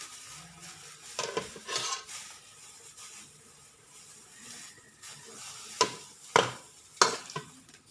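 Ingredients for Thai fish larb are dry-roasted and stirred in a pan, giving soft scraping and light sizzling with a few sharper scrapes and knocks toward the end, quiet and close, with no voices.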